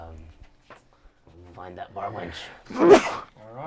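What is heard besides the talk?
sneeze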